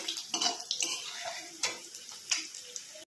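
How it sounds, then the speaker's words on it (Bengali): Small fish frying in oil in a wok, with a soft sizzle under repeated clinks and scrapes of a utensil against the pan, close and fairly quiet. "মাছগুলোকে ভালো করে একটু ভেজে নেব।"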